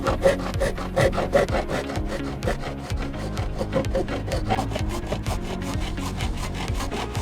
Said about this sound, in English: we're going to cut that out and get it out of the way